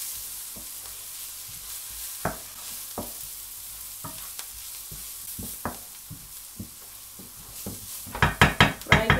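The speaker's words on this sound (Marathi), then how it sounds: "पण आता ते फ्राय करून घेऊया" Red chili powder and garam masala fry in a pan for a spicy tawa prawn masala, with a spoon stirring in scattered scrapes and taps, then a burst of louder clattering strokes near the end.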